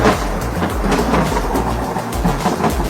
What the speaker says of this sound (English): kitten woke up because of the loud thunder outside